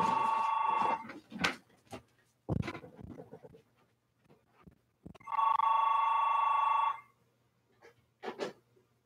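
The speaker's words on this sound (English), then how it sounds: "But if the phone rings, and it rings." A home landline telephone rings in two long electronic bursts with a pause between, loud and close, interspersed with clattering and handling noises.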